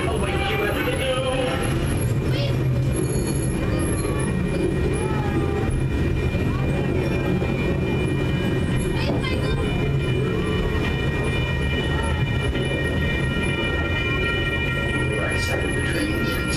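The Oregon Zoo train rolls along its rails with a continuous, loud rumble and clatter of wheels, a steady mechanical drone lasting throughout the ride.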